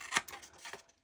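Scissors snip across the corners of paper in a quick, close cut of about a second, with a sharp snip at the start and a softer one near the end.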